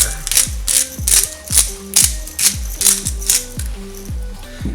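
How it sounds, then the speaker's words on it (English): A hand-cranked pepper mill grinds black peppercorns over a snack in a kitchen, giving a rhythmic series of about nine ratcheting, crunchy clicks, close and fairly loud, with no talking. "finish it off with some freshly ground black pepper"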